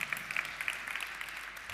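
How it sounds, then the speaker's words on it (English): Light round of applause from an audience at a biofabrication summit, steady soft clapping that stays fairly quiet and even for under two seconds. "all the biologists also deserve a round of applause"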